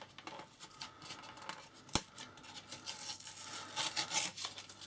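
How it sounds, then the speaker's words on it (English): Tape peeled off a model display base with help from a knife, heard as quiet close tearing and scraping with one sharp click partway through. "I'm just going to use the knife just to help get this up"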